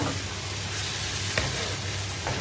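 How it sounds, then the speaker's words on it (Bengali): Head curry sautéing in a pan, a dense steady sizzle and frying hiss throughout with a faint scrape of stirring partway through. "এটি রান্না প্রায় হয়ে এসেছে, কষাইতেছি এখনো।"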